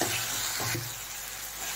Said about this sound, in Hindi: मसाला को अच्छे से भून लेना है, तब तक भूनना है जब तक इसमें से तेल ना छोड़े